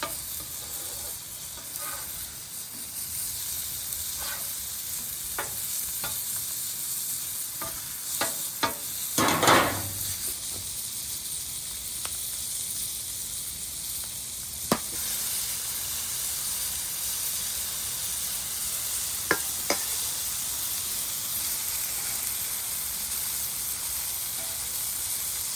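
Potatoes and onions fry on a griddle with a steady close sizzle and hiss, broken by scraping spatula taps and one louder burst of crackling partway through; no one talks.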